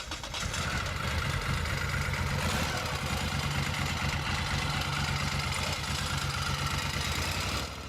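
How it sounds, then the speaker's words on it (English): A Moto Guzzi Daytona 1000 motorcycle engine idles steadily and loudly up close, a continuous low throbbing rumble with a rough, tractor-like beat and no talking. "how easily the motor starts up and runs and idles"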